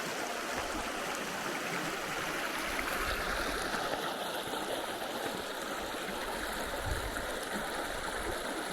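The River Liza, a clear stream in the Lake District, flows with a steady, dense rushing and burbling close by that keeps the same level throughout, with no voices.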